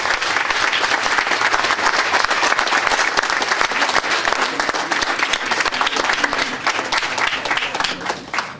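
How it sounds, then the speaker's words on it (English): Dense, loud audience applause fills the room for board volunteers at a city birthday celebration, holding steady throughout before easing slightly at the end. "So how about a big round of applause for all these folks?"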